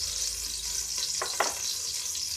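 Ghee sizzles steadily in a hot pan, a constant close crackling hiss with a couple of brief scraping stirs partway through.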